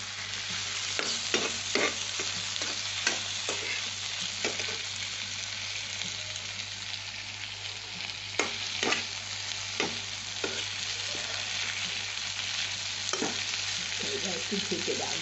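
Bitter gourd and prawns fry in a pan with a constant close sizzle, and a spatula scrapes and taps against the pan in irregular strokes over the top.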